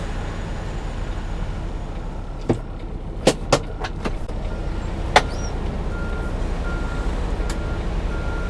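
A JCT semi truck backs into a trailer at a loading dock in Vernon, California, to release the fifth wheel: a steady low diesel rumble throughout, with a few sharp metallic clicks and knocks, no voices.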